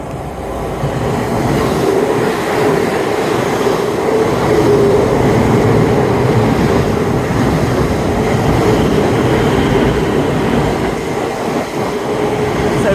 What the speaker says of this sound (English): I did have an announcement for a train on platform 9, platform that we're on, that isn't stopping.